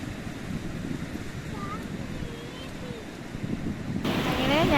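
Sea waves washing against a shallow coral shore, a steady rumbling wash with buffeting wind noise that swells louder toward the end, with no clear talk.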